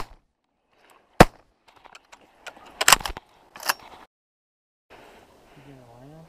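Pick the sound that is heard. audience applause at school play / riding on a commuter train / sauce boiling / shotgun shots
shotgun shots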